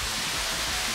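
A small waterfall at Centennial Pool on a mountain hiking trail rushes in a steady, loud, unbroken hiss of falling water.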